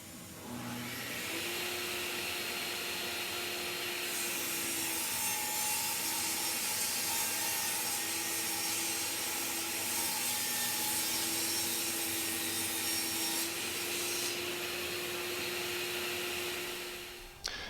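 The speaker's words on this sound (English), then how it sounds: "take this scrap piece of plywood that matches the plywood that's already on the charging station and rip it down to a" A saw rips a scrap plywood board down to width, a loud, sustained whining cut with a steady motor tone and rising and falling pitch as the blade works through the wood, running nearly eighteen seconds without talk.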